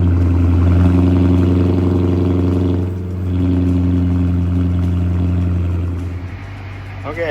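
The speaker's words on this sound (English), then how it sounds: "Cold start on a hot day." A muscle car engine idles right after a cold start on a hot day, with a loud, steady low rumble and a mechanical whir, dipping briefly before settling back into a rough idle.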